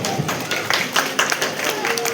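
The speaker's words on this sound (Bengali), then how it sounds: "তার জন্য একটা হাততালি হয়ে যাবে" Audience clapping for a new life member at a Ramkrishnapur Bayam Samiti centenary honours ceremony, a steady burst of applause from a crowd with some voices mixed in.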